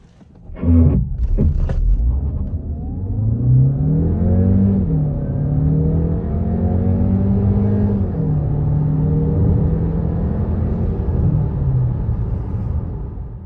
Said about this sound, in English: the plug-in hybrid powertrain I'm driving right now